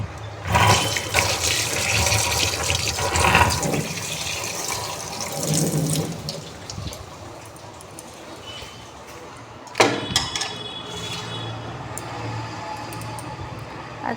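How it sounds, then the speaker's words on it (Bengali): A milk packet being washed under a running kitchen tap, steady splashing water with intermittent shifts and a sharper splash partway through, close to the microphone. "দুধের প্যাকেটটা ধুয়ে ফেলি।"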